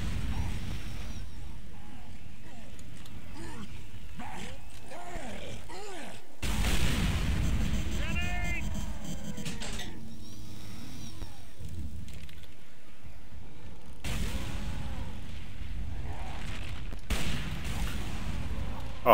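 A rail gun fires in a tank video game, giving a few loud, booming blasts spread over the stretch amid steady rumbling game noise, with occasional whistling effects.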